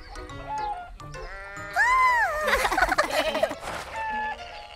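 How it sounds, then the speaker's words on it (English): A cartoon goat gives a wavering, rising-and-falling bleat, loud and close, in a short animated scene with music and background effects around it. "A goat?"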